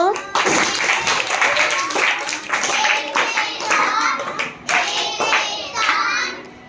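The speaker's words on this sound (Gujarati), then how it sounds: "ચલો ત્રણેય માટે તાળી પાડીએ ચલો જોરમાં ક્લેપ કરો" A group of schoolchildren claps loudly for three classmates in a classroom, with dense, rapid, uneven hand claps filling the clip and young voices mixed in.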